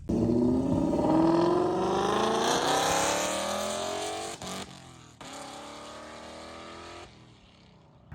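A Mustang GT fitted with longtube headers revs hard, its loud engine note climbing steadily in pitch for several seconds, then dropping off with crackling pops and a lower settling rumble, close by.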